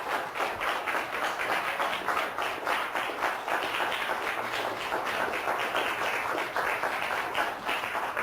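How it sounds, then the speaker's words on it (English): An audience in a lecture hall gives a steady round of applause, dense overlapping claps held at an even level from start to finish. "if you would indulge me with a round of applause for these four"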